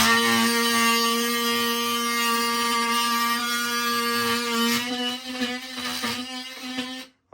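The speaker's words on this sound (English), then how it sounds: "I'll just cut a little square out with the multi-tool" Oscillating multi-tool cutting a small square out of a wall, a steady buzzing drone with strong harmonic tones that wavers and stutters near the end before stopping.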